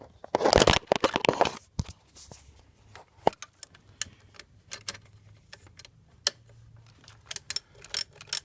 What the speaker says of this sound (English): This is a ratchet and wrench number 12.